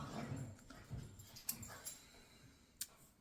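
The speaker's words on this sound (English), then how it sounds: "If you hear a little growling in the background, it's just my two dogs." Two dogs make low, soft growls and whimpering sounds in short bursts, fairly faint, with a few sharper yips breaking through.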